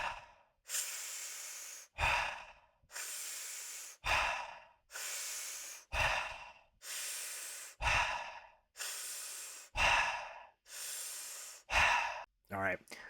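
Fast, rhythmic circular breathing, about eight rounds of audible inhale-exhale cycles, each breath a breathy whoosh ending in a sharper puff, evenly paced and close, with no talking.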